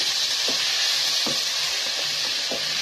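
Tomatoes are tipped into a pan of fried garlic, ginger and onion, where they sizzle steadily and closely, with a few soft stirring scrapes spaced through the constant frying hiss.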